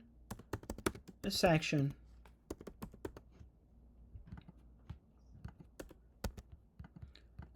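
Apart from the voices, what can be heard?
typing on a computer keyboard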